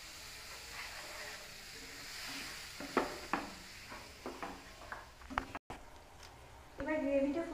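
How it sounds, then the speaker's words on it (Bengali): Water goes into a pan of simmering chicken kebab gravy, preceded by a few soft clinks of a utensil against the pan and finishing in a surge of hissing steam as it meets the hot gravy. "এরপর আমরা একটু জল দিয়ে দিচ্ছি।"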